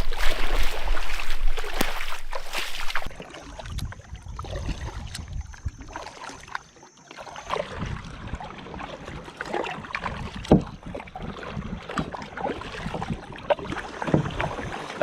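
A kayak paddled on the sea off a tropical island: paddle strokes splash and swish up close among wind buffeting the microphone and water lapping against the hull, irregular and fairly loud, with no speech.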